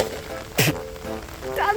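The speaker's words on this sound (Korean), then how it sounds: "여러분 지금 빗소리 들리죠?" Heavy rain during the rainy season: a steady, dense hiss with one sharp knock partway through, and a voice faintly present underneath.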